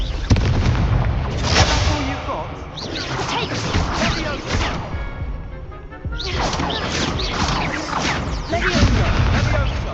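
Loud blasting bursts from the Confringo spell in Hogwarts Legacy, several heavy crashing booms across the stretch, with a brief lull midway before the blasts resume.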